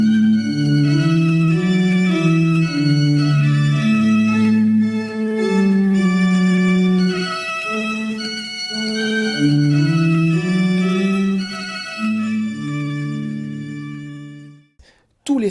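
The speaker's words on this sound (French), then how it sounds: "Voici le son de cet orgue." A 1757 pipe organ built by John Snetzler plays sustained, loud chords with slowly moving melodic lines, the full tone ringing steadily before cutting off abruptly near the end.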